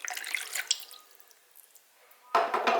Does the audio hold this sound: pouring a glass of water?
yes